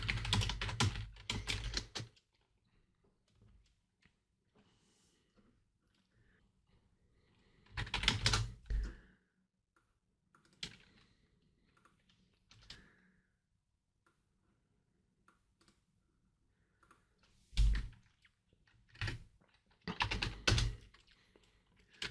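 Bursts of computer keyboard typing while configuring network IP and BGP settings, several short clusters of rapid keystrokes separated by long quiet gaps, close and fairly crisp.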